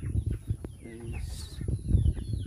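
Chickens cluck and murmur up close at a family poultry farm in Sarangani Province, with a short burst of squawking amid low rustling and handling noise.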